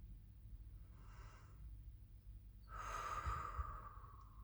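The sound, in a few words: deep breath during guided meditation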